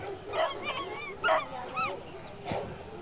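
A German Shepherd dog barks and whimpers in short, high yelping bursts, several spaced calls over about three seconds, fairly close and clear against a quiet background.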